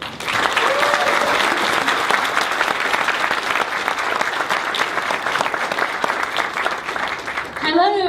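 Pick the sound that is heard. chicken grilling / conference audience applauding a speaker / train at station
conference audience applauding a speaker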